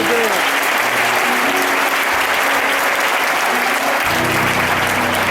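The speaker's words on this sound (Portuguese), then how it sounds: "Pastores, eu lhe dar uma salva de palmas" A Pentecostal congregation at a preachers' congress gives the pastors a round of applause, dense steady clapping filling the room throughout, with a low voice and music swelling under it near the end.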